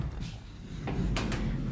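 A drawer in a built-in apartment wardrobe slides with a soft scrape, then gives a couple of brief wooden knocks, close and fairly quiet, against a low room hum.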